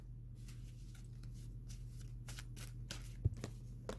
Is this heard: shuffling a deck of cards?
yes